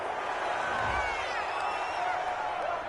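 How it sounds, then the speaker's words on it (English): A large stadium crowd at a football game reacting against a penalty call, a loud sustained roar of boos and jeers with a commentator talking over it. "this crowd does not like that call"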